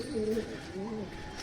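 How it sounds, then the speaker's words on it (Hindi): Pigeons coo in a rooftop loft in Uttar Pradesh, with two soft, close rolling coos, one near the start and one near the end, over low background noise. "ये इसमें कबूतर रहते हैं।"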